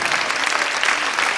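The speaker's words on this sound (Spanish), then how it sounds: "Dele un aplauso al Señor." A church congregation claps during a sermon, a short steady wash of applause at an even level with no voices on top.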